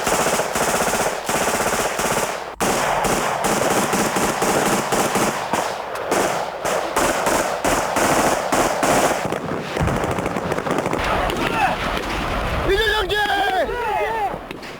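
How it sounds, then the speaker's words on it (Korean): A UDT SEAL automatic rifle fires rapid bursts during Korean naval special forces training, loud, close cracks in fast repeated volleys, with talk and shouting over the end. "UDT 실대원의 자동 소총은 분당 200발을 발사한다."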